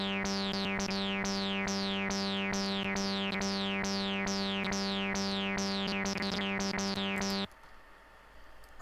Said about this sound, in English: I've prepared an example by going into my presets and selecting the TB303 preset.